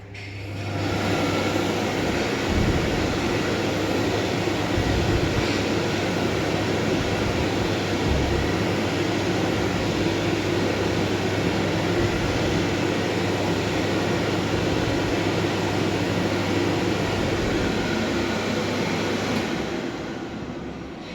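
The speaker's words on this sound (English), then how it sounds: "This has a Met Lamb hand dryer." A loud, steady blowing roar of a Met Lamb electric hand dryer in a public toilet runs continuously for a long stretch before winding down at the end.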